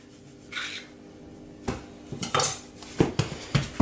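Bread dough for a simple white loaf is divided in two on a work surface, heard as a few close scrapes and knocks, likely a scraper or knife against the counter, sparse at first then in quicker bursts.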